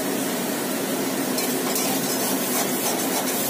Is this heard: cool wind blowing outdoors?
no